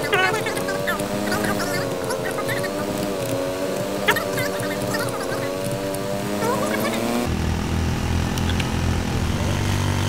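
A helicopter in the video game Arma 3 drones with a steady, loud rotor and engine hum that shifts in pitch, continuing throughout with faint background voices underneath.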